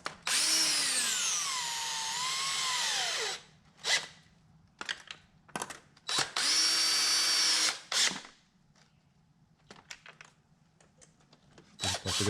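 A power tool drives bolts during a BMW 335d injector install, whirring close up in two long high-pitched runs that slow and rise in pitch. Shorter rattling bursts and brief clicks follow between them.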